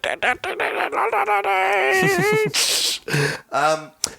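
A small puppy whimpers and yips at close range in a series of high, quavering whines and short squeaks, broken by brief pauses.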